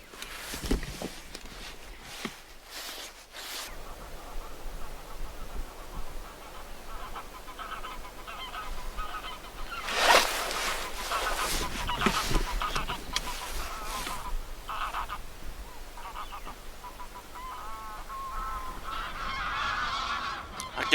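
Geese honking in flight over the Humber estuary in winter, above a steady outdoor background hiss. The honks are scattered and fairly distant, swelling most noticeably around the middle before thinning out.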